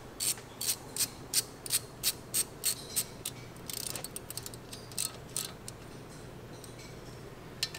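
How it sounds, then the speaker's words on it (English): A socket ratchet clicks in quick, regular bursts while tightening brake caliper bolts on a car, the close, crisp ticking pausing briefly and resuming, with no talking. "So we'll get our socket, we'll tighten these up."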